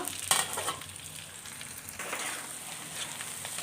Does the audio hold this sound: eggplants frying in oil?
yes